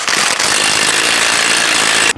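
A power tool spins an axle nut down onto a CV axle shaft of a 2006-2013 Chevrolet Impala, a loud continuous hammering buzz that runs steadily for about two seconds, then cuts off abruptly.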